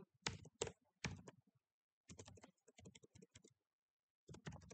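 Keyboard typing on a computer while entering a text prompt, coming in quick clattering bursts of keystrokes separated by short pauses, close and fairly quiet with no talking.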